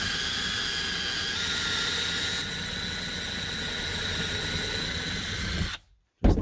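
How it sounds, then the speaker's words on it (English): Power drill boring a screw hole into a wooden euchre box, a steady high whine with grinding texture held for several seconds before cutting off abruptly near the end. "So if I drill like this, I should get down basically as far as I want to"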